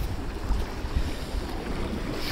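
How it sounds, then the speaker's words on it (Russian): Strong, cold late-autumn wind roars and buffets the microphone in gusty bursts at a reservoir, with a rushing outdoor wash like water nearby. "Ну, сильный ветер,"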